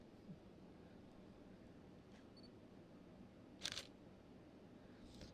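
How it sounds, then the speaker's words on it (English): A single-lens reflex camera's shutter fires once at 1/25 second, giving one quick, crisp mechanical click close by against a quiet, steady room background. "You heard the shutter, how quick it was."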